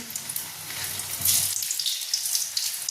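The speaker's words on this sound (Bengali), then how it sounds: "তেলটা গরম হয়ে গেছে, এবার আলুগুলোকে আমি ভেজে নিচ্ছি।" Boiled potatoes sizzle and crackle in hot oil, a steady hissing fry with a brief louder spatter in the middle, close and alone without talk.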